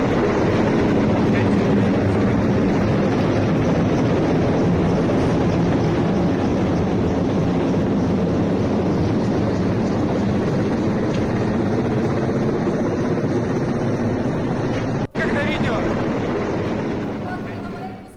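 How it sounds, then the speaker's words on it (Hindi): Mi-8 combat helicopters fly over Moscow, their loud steady rotor and engine drone filling the whole stretch without letting up, with one brief sharp break near the end before the roar fades slightly. "मॉस्को में ही मंडराते दिखे हैं Mi-8 कॉम्बैट हेलीकॉप्टर"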